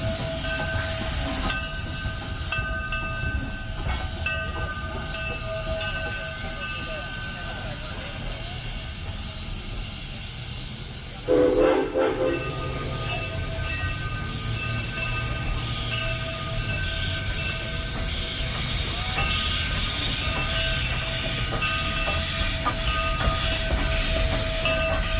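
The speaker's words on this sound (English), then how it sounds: "number 10 steams down the yard to couple to the front of the excursion train for the next run" A steam locomotive, Granite Rock No. 10, rumbles and clanks steadily through a rail yard, with a brief metallic squeal of wheels partway through, continuous and fairly close.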